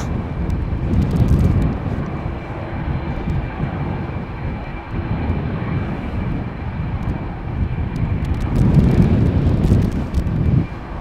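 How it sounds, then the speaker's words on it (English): Boeing 787 Dreamliners pass at Schiphol Airport, their engines making a continuous broad roar that swells near the start and again toward the end, with wind buffeting the microphone throughout. "And I see two Dreamliners coming this way."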